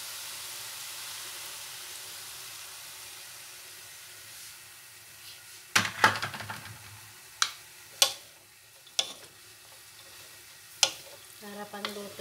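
Soy sauce hits a hot frying pan of boko pansit noodles and vegetables being cooked for Christmas, giving a steady close sizzle that flares louder at about six seconds, followed by sharp utensil clacks and scrapes as the mix is stirred.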